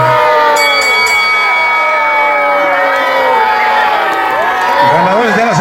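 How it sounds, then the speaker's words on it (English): Wrestling fans in an arena at a lucha libre trios match roar and boo in a loud, sustained crowd wash, with whistles and shouts layered through it, close and unbroken from start to finish. "As the fans are booing everywhere."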